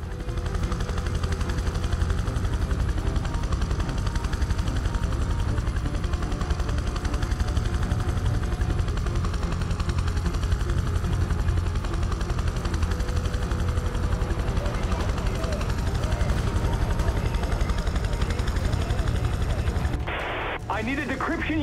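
Helicopter coming in to land on a helipad in the video game Prototype 2: loud, steady rotor roar with bursts of gunfire layered in, ending in a brief abrupt change near the close.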